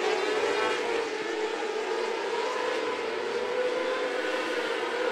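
Micro sprint race cars roaring around the dirt oval at Wayne County Speedway in a Lucas Oil POWRi Outlaw Micro Sprint League feature, a loud continuous high-revving engine whine that holds steady throughout.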